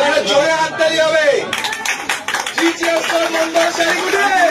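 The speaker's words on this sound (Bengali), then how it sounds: "জোরে হাততালি হবে।" A short burst of loud hand clapping rings out at a wholesale saree shop, mixed in with people talking nearby.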